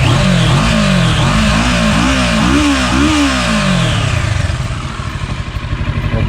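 A 2016 Kawasaki Versys 650 motorcycle engine is revved up close in repeated rising blips, then settles back to a lower rumbling idle near the end.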